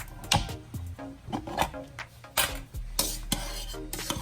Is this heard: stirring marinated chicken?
yes